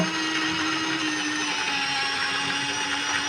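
An electric blender grinding ginger, garlic, coriander and green chili into a paste for a chicken curry, a continuous high motor whine running steadily at close range.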